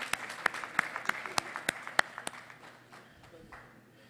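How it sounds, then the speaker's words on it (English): Applause from a seated audience of members at a chartered accountants' study gathering, sharp separate claps fading into a softer patter over four seconds, fairly distant and moderate in level. "I offer a big clap to them."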